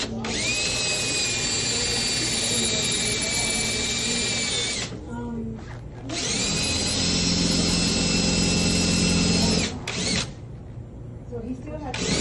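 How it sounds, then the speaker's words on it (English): A power drill whines loudly as it bores out the lock of a soda machine, running in two long sustained bursts separated by a short pause, with a brief third burst near the end. "I'll just drill it."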